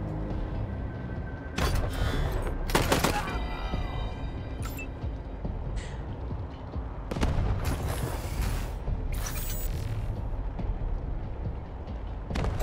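Bursts of gunfire from the video game Wasteland 3 sound out as sharp, loud cracks, with a few clustered shots amid game ambience and no talk.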